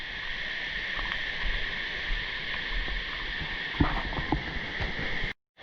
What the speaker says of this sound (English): that noise you can hear, that's the sound of summer in Australia. That's the cicadas